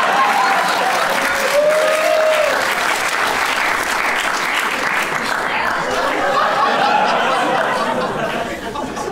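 Steady, thick clapping from a stand-up comedy crowd keeps going without pause, with scattered chuckles, chatter and a faint whoop riding on top before it eases slightly at the end.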